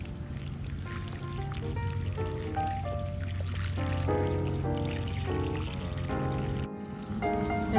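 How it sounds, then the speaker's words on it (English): Water poured from a hose or can onto a mist flower plant in a garden, a steady close trickle and splash running continuously with bright shifting tones, no talking. "So I'm gonna give that some water, a nice drink."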